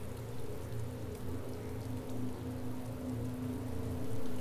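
Rain in the video game DayZ falls as a steady, even patter with a soft hiss, continuous and moderately faint, with no voices.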